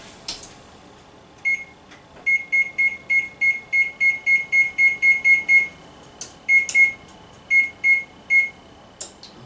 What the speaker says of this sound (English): I'm going to go ahead and set my timer now